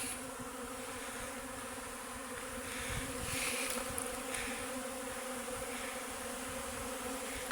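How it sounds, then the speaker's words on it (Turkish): Steady, dense insect buzzing from many bees swarming close by, continuous throughout with a slight swell in the middle, no voices. "bir arı soktu"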